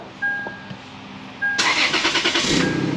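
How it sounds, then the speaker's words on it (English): A car has just had a new battery fitted in a home garage. After a quiet moment, the starter cranks briefly, then the engine catches and settles into a rough, pulsing idle that may carry an exhaust leak. "I got the battery in there, so let's give it a shot and see if it runs."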